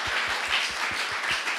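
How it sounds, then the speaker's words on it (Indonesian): A church youth congregation at a service claps together in a brisk, even rhythm of about eight claps, loud and close, with no talking over it. "Kita tepuk tangan dulu yuk."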